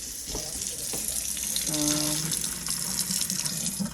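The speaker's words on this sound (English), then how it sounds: "I'm going to turn on the faucet" A kitchen faucet runs steadily, water splashing into a sink with a constant rushing hiss, a brief tonal hum rising in the middle.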